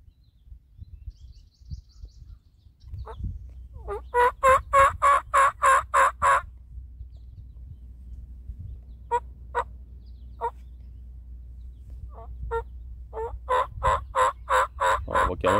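Wild turkey gobbles during a spring turkey hunt, a burst of rapid rattling gobbles, then scattered single clucks, then another long rolling gobble series, fairly near and loud over quiet woodland background.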